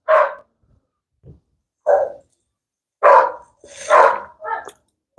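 Several dogs bark in short, loud bursts, close by, with gaps of quiet between them and a couple of quick barks overlapping near the end.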